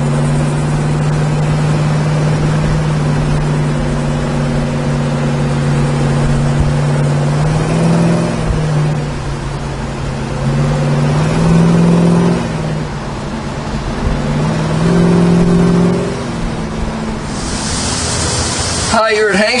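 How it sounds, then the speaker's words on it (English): A 1970 Chevrolet Chevelle SS engine hums as the car cruises in a 35 zone, a steady low drone that swells and eases with throttle changes before a brief clatter at the end. "Car runs nice. Nice running car, real straight."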